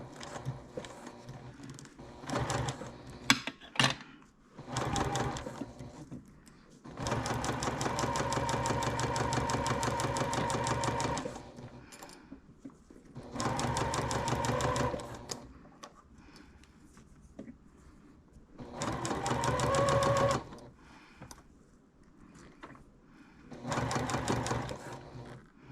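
A home sewing machine stitches a wallet-style bag in bursts of fast, even whirring and needle clatter, each lasting several seconds, separated by quiet pauses with small handling clicks.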